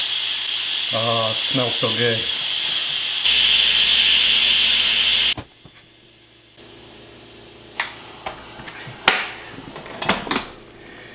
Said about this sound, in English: I'm going to let the rest of the pressure off